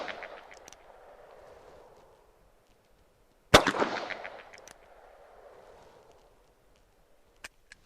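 A single loud, sharp report from a Ruger Security Six .357 Magnum revolver cracks out midway and decays with a ringing tail, amid quiet outdoor background and a few faint clicks.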